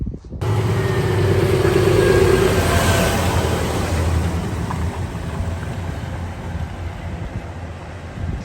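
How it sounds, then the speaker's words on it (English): A heavy lorry rolls along a country road near Dartmoor, its low engine drone rising loud and close for the first few seconds and then easing into a steady rumble with wind noise, no voices. "Huge great lorries coming down here."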